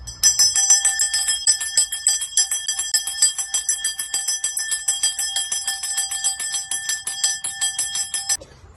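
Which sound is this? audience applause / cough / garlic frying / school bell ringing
school bell ringing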